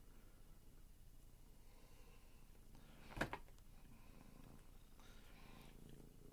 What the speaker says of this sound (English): Here is my cat.